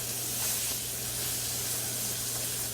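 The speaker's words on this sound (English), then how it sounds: "I'm going to let that sear on both sides." Steak sears in a hot pan with a steady, even sizzle and hiss that holds at moderate level throughout, with no talking over it.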